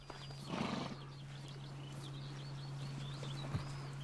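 Don breed horses at a stable with pastures, one neighing loudly near the start, followed by soft hoof clip-clops and faint birdsong in the open air.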